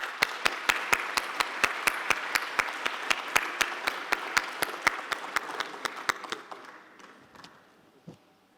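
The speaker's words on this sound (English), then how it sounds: "Let's give him some applause." Audience applause for an award winner at an annual awards dinner, with a rhythmic, evenly spaced clap cutting through a broad crowd wash before the clapping thins and fades out.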